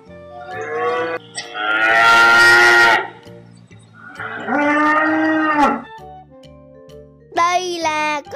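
Loud, close mooing from a dairy cow: a short call, then a long bellow, and after a pause another sustained moo, with a brief higher cry and faint jingling near the end.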